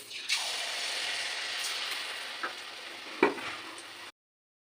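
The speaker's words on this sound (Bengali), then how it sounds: "কড়াইয়ের মধ্যে মালপো ছাড়বেন একটু করে এইভাবে নেড়ে নেবেন" Steady sizzling of malpua batter made with new jaggery frying in hot oil in a wok, with a couple of soft scrapes of a spatula stirring before it cuts off.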